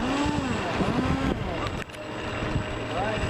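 Several B-17 bomber engines run steadily as a flight of four taxis onto the runway before takeoff, a broad continuous drone with a droning pitch that rises and falls, while voices talk over it throughout.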